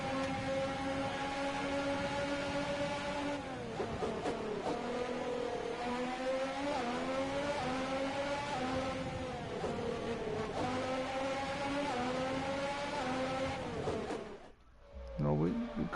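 Formula 1 race cars scream past in the F1 21 game, a high whining engine note that climbs and drops through gear changes, continuous and loud before cutting off near the end.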